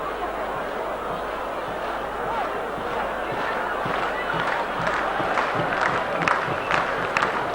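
Rugby league crowd at a Wigan v St Helens match jeering the referee, a broad steady roar of many voices with scattered shouts, continuous throughout with commentary-like talk mixed in.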